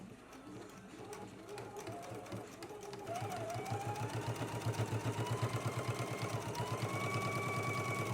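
Sewing machine stitching a dress neck seam, a quiet rhythmic mechanical chatter that grows steadier and louder as the stitching speeds up.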